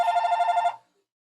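A telephone bell rings loudly and close in a quiet room, a steady warbling trill lasting under a second before cutting off into silence.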